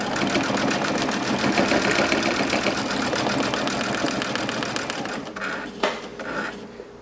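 Brother Dream Machine sewing machine stitching fabric, a fast steady mechanical whirring with rapid needle ticks, close and loud for about five seconds before stopping, followed by a few brief clicks and clatter.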